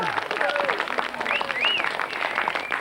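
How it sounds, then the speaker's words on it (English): A studio audience gives a round of applause on a live talk show, a dense, steady patter of clapping that runs under overlapping voices throughout. "That's worth a round of applause"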